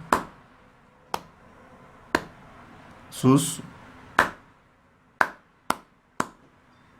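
Rhythmic hand claps in a school melodica music lesson, sharp single claps spaced at about one per second with gaps for rests, while a teacher's voice speaks between them.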